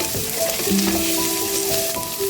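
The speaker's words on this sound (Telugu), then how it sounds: "అలానే ఎండుమిరపకాయలు ఇది కూడా వేసుకొని ఫ్రై చేసుకోవాలి" Dried red chillies crackling as they fry in hot oil, a close, continuous sizzle with occasional stirring and faint tonal hum in the background.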